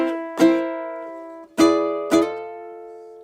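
Ukulele chords ring out as three separate strums, each a bright plucked chord that sustains and slowly fades before the next, played alone and close with no talking.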